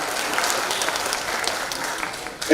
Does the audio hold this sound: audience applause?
yes